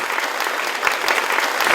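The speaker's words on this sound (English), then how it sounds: "So please, applause for all the members." A dense, steady burst of audience applause fills a seminar hall at a Vegan Earth Day event in California, close and continuous with no breaks.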